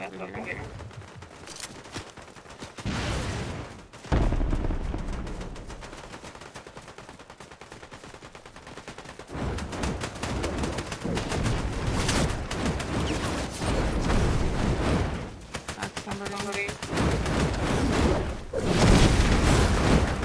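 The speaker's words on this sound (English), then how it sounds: "People shooting" Heavy gunfire of people shooting, with rapid bursts and repeated loud shots crackling through most of the stretch, broken by brief lulls, with voices speaking faintly underneath.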